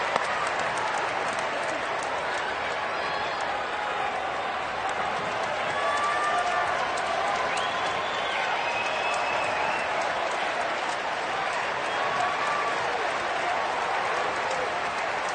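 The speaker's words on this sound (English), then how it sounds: "This crowd trying to will Elliott to a second out here in the 6th inning." A college baseball crowd at the College World Series between Ole Miss and Oklahoma applauds and cheers in a steady, dense roar for many seconds, with scattered shouts rising above the clapping.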